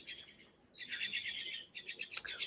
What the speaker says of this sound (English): We have some chattery birds in the background.